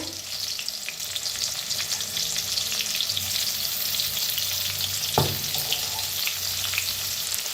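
Garlic, green chillies and peanuts for a Maharashtrian thecha roast in a pan with a steady, close sizzle, and one brief stir or scrape partway through.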